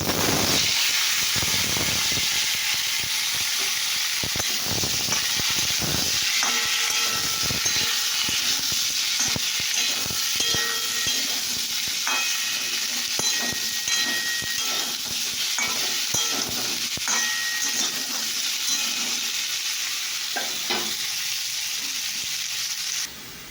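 Potatoes frying in a hot pan with bay leaves give a steady, close sizzle with crackling pops, and occasional stirring runs under it throughout without any talk.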